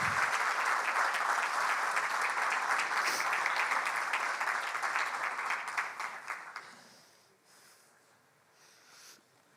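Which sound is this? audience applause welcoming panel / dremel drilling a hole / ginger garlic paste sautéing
audience applause welcoming panel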